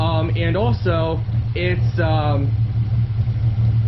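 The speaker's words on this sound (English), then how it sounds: "So we've let it idle here for quite a bit now and no issues" A Ford Mustang 4.0 V6 with an idle chop mod, idling around 725 rpm, gives a steady low burbling hum under a voice.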